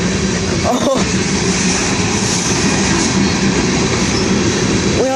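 Canadian Pacific and Union Pacific freight trains roll past steadily and loud, a continuous rumble of railcars with wheel clatter and a brief squeal, no voices clearly heard.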